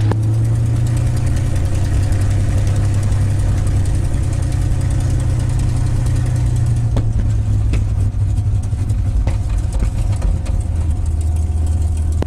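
A P-51 Mustang's piston aircraft engine runs steadily and loudly, up close, with a deep constant drone that holds its level throughout and a slight shift in pitch toward the end. No one speaks.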